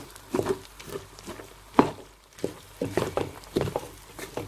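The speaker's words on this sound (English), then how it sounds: "Stir frying the rice." Rice being stir-fried in a pan for Nigerian fried rice, before any stock is added: intermittent scraping, stirring and light sizzling bursts at close range, with no talk.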